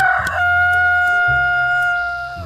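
A rooster's crow rings out near and loud, one sustained call that holds steady before tapering at the end, heard on its own.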